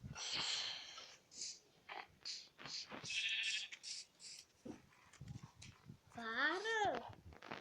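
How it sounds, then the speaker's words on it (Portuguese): Sheep in the Minecraft video game give a couple of bleats, one short early and a wavering, clearly pitched one near the end, heard between and under someone talking over the gameplay. "Uma ovelha, eu vou matar aqui essa ovelha."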